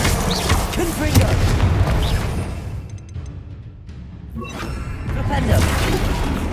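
Fiery blasts from the Confringo blasting spell during combat in Hogwarts Legacy, heavy booming bursts and crashing debris that surge, ease off midway, then return loud and dense, with talk running under the action.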